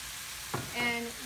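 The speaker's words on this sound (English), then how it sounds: "So in the back pan, I'm going to add some olive oil" Olive oil warming in a back pan on a stovetop during salmon dinner prep gives a brief soft sizzle with a clatter near the start, close and moderately quiet, with no talking.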